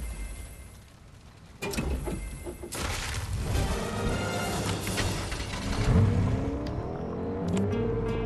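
Car engine in the video game Fortnite, a loud, continuous engine drone that rises and surges with revving and tire noise after a quieter opening, running steadily for several seconds with no talk.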